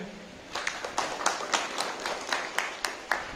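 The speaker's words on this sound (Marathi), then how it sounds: "कृपा करून येशूच्या नावाने टाळ्या द्या." A church congregation claps hands together in worship, producing a fairly steady run of sharp, closely spaced claps that fill the room at moderate loudness.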